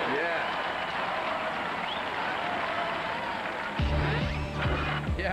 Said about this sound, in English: Let's have a great round of applause for all these teams.